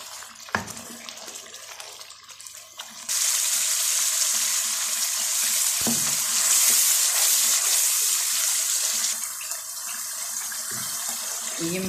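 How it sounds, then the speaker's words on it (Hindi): Masala of salt, chili and coriander powder fries in a pan for kebab handi. A few knocks come first, then a loud, steady close sizzle rises and holds, easing off near the end. "मैं इसको 10 मिनट के लिए भूनूंगी"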